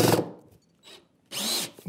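A drill drives longer screws through stacked plywood pieces of a workbench, two separate bursts, the second louder and longer, with a quiet gap between.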